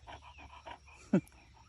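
A puppy pants in quick rhythmic breaths close by, about six short huffs, followed by one sharp higher yelp or whine near the end.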